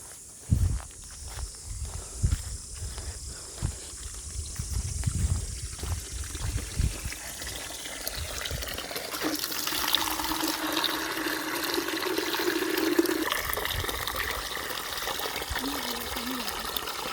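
Water poured onto a mango sapling grown from a seed, a continuous splashing and trickling pour that swells in the second half, preceded by footsteps and shuffling nearby.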